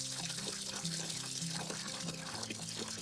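Steady running water pours from an RV faucet while de-winterizing, a continuous close rush with faint background tones underneath.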